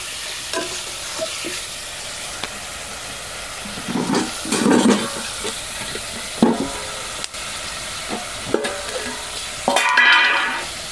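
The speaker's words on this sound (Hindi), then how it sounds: "प्याज डाल दिया और प्याज को अब अच्छे से भूनेंगे" Ground onion with mustard seeds fries in a pan for a Bengali-style fish and eggplant dish, a steady soft sizzle broken by bursts of stirring and scraping, close and with no talk.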